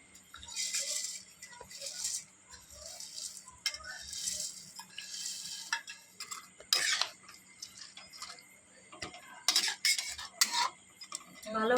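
Pieces of palm sitabhog, a Bardhaman sweet, are tipped into hot sugar syrup, giving repeated soft clinks, rattles and wet stirring sounds in bursts, with a spoon scraping a metal pan and no talk.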